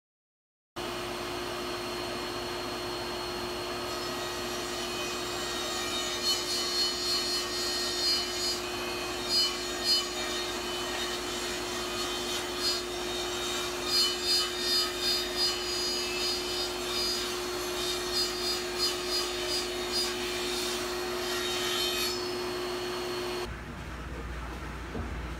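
A rabbet is cut in wooden stretcher parts for a workbench build, giving a steady machine whine with a fixed tone and a rapid rhythmic rasping from the cut, close and unbroken for about twenty seconds with no talk.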